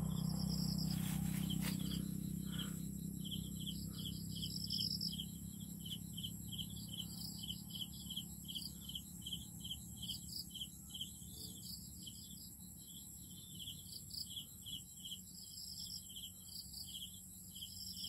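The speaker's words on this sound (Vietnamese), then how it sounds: "trong nương ngô này chỉ có nghe tiếng uh, tiếng dế kêu tiếng dế mèn kêu" Crickets chirp steadily in a corn field, a dense, continuous high trill that runs the whole time at moderate distance, with a low rumble of distant road traffic underneath and a louder burst of noise at the start.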